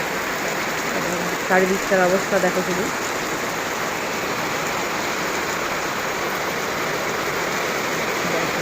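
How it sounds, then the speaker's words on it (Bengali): Heavy rain pours outdoors on an empty street in the late afternoon under a fully clouded sky, a dense, loud, continuous hiss throughout, while someone speaks briefly near the start. "তো এখন কত জোর বৃষ্টি হচ্ছে দেখো"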